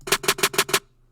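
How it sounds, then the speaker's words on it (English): A quick bouncing roll of five bright trap snare hits in even succession, in the classic Southside style, then a short fade into quiet. "the bounce snare is just like the classic Southside snare"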